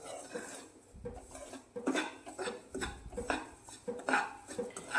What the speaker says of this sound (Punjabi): ਇਦਾਂ ਹੀ ਆਪਾਂ ਚਲਾਉਂਦੇ ਹੋਏ ਇਹਨੂੰ ਭੁੰਨਣਾ ਹੈ